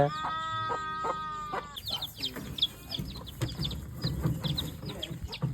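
Young hens cluck and squawk in a busy, overlapping chorus, with several sharp calls and a brief harmonic crow-like note near the start.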